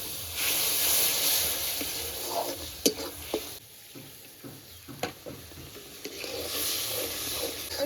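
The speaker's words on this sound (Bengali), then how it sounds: "মশলাটা এবার ভালো করে কষিয়ে নেব। অল্প একটু জল দিয়ে দেবো যাতে মশলাটা না পড়ে যায়।" Spice paste of salt, turmeric and red chilli powder sizzles and hisses in a pan after a little water is added, while a spoon stirs it with soft scrapes and scattered clicks, loud and close.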